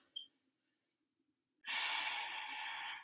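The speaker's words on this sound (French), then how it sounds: "On respire par le nez et on doit sentir et entendre la respiration rentrer et sortir." Noisy nasal breathing during a yoga session: after a quiet pause with a faint sniff, a single loud, airy breath through the nose rushes in close and sustained for over a second.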